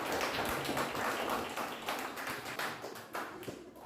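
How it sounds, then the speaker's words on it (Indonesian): Classroom of students clapping for a presenting group, a busy, fairly close burst of hand claps that runs throughout, uneven and room-reverberant, tapering toward the end. "Tepuk tangan untuk kelompok satu sekalian."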